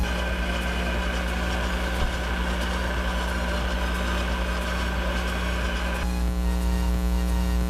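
Rotary polishing tool running at high speed while edging a coaster, a steady loud whine with constant hum that shifts pitch slightly near the end.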